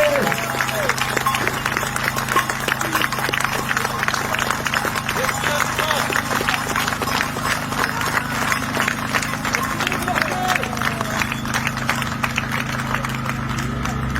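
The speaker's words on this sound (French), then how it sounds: "je voudrais juste qu'on les applaudisse" A crowd at a healthcare workers' protest in Ajaccio claps steadily for several seconds, a dense patter of hands at moderate distance, with a low hum and some voices underneath.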